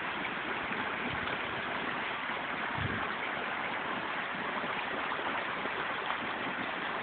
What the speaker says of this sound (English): Pretty little waterfall, nice little brook running down.